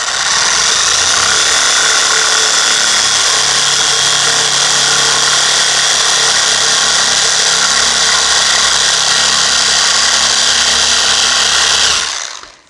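A Deep Dive 20 mm scraper sander fitted with 40 grit, running in free rotation mode and scraping through material, gives a steady, loud, continuous grinding whir that holds evenly for about twelve seconds and then cuts off.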